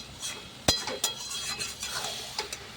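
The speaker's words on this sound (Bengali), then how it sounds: "এখন ভালো করে আমি নেড়ে নেড়ে ঘন্ট তৈরি করে নিলাম।" Cabbage and potato ghonto with a hilsa fish head being stirred in a pan, a sharp utensil clink against the metal followed by soft scraping and faint sizzling, close and quiet with no talk.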